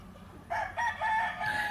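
A young brown-red gamefowl rooster crows at close range, one strained, broken crow in rising segments over a quiet farmyard background.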